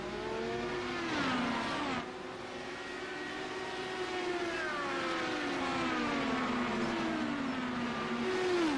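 An IndyCar engine in a racing video game at Phoenix, a steady high-pitched drone with gliding pitch sweeps through the gears, continuous and loud, with a brief dip near two seconds.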